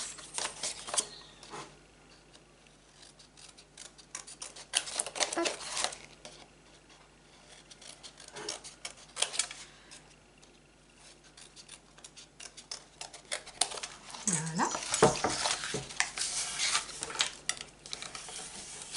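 Small scissors snip the corners of handbag craft material, giving crisp intermittent cuts with quiet handling rustle between them and a busier flurry of snipping near the end.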